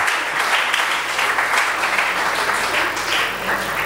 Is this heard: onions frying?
no